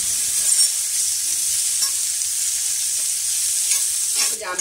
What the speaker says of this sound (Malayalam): ജാമ്പയ്ക്കയും കൂടെ അതിനകത്ത് ഇട്ടതിന് ശേഷം ആ വെളിച്ചെണ്ണയിലിട്ട് നന്നായിട്ടൊന്ന് വഴിച്ചെടുക്കുക